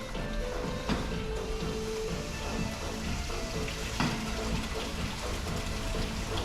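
Coolant drains from an MG ZT 190 car engine into a bucket, pouring and splashing steadily, a continuous trickling gush with occasional clinks, close by.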